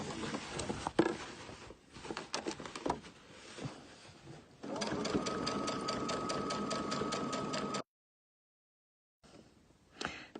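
A sewing machine stitches along a pants hem, running in short stop-start bursts, then a longer steady whirring run close by, a brief silence, and one more short burst at the end.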